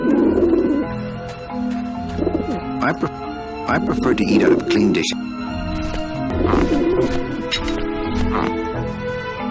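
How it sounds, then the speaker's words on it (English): Pigeons coo around a dish vent in Grim Fandango, soft repeated throaty coos in bursts under music, while a character speaks over them. "the pigeons obviously like this dish vent"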